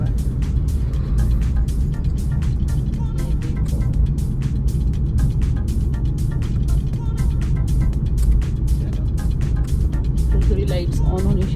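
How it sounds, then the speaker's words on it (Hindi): A car driving on a road away from an airport in the dark before dawn, its steady engine and road rumble continuous and fairly loud throughout, with no break in the drone. "भास्कर चला रहा है गाड़ी।"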